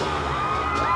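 A crowd of Hualapai Nation tribespeople at a Grand Canyon motorcycle jump event cheers and whoops loudly in a brief, dense burst of voices.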